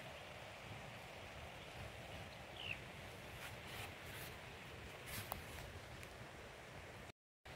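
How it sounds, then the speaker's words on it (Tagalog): Rain falls steadily near a river, a faint continuous hiss of drops with a few soft taps, ending in a brief cut to silence. "Pero walang tigil ang ulan."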